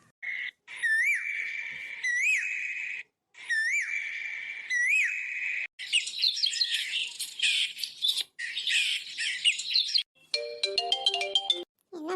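A phone rings indoors with a loud, clear ringtone of repeated chirping, bird-like whistled bursts separated by short gaps, then a faster run of bright tones, with no talking over it.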